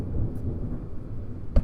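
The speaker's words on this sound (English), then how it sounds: "Listen to that thunder!" Low rumbling thunder rolls on through the whole stretch, with a sharper crack near the end, heard from indoors during a tabletop gaming session, with no voices over it.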